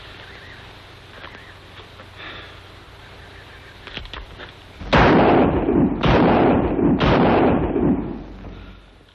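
A revolver goes off three times after a quiet stretch: loud, sharp bangs roughly a second apart, each trailing off in a short echoing decay.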